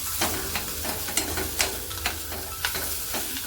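Boiled potatoes are stirred and mashed into a sizzling vegetable mixture in a pan, with a steady fry hiss under repeated sharp spatula scrapes and taps roughly every half second, close and fairly loud.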